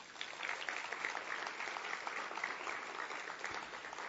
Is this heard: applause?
yes